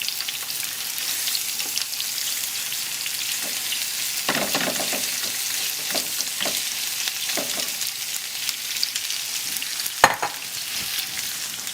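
About two onions caramelizing in a hot pan give a continuous close sizzle, with intermittent stirring clatters and one sharp knock near the end.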